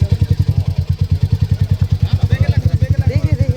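A motorcycle engine idles close by with a loud, even, rapid thumping pulse throughout, while people talk faintly over it.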